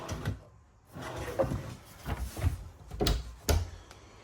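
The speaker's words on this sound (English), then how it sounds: "5 pull out drawers right here too" Several pull-out drawers in a 2024 Takoda 350TH toy hauler slide open and shut nearby, soft rolling scrapes ending in light thuds, a few in quick succession.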